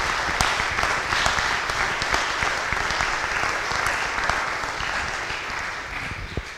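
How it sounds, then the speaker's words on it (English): Sustained audience applause fills a lecture hall at a law school's lieutenant governor candidates' debate, dense and steady at moderate loudness throughout with no talk over it. "Please join me in giving them a round of applause"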